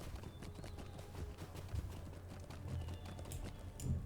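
A horse's hooves clip-clop in a steady, fairly quick rhythm in the video game The Lord of the Rings Online, close and moderately loud with faint game ambience behind.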